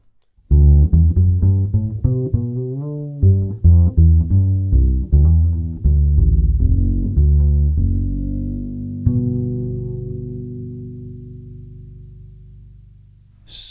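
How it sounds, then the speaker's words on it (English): Plucked double bass notes through a Realist pickup with flat EQ, played in a walking line, deep and woody with a clean, unprocessed tone, ending on a long sustained note that slowly decays. "this is the sound of the Realist pickup flat without any EQ"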